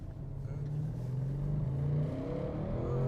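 An Audi RS6 wagon's V8 engine revs from inside the car, a fairly quiet and steady low drone that climbs gradually in pitch.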